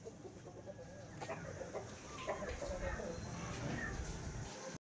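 Salem-breed chickens and roosters for sale cluck faintly in the background while people talk nearby, the scene quiet and ending abruptly.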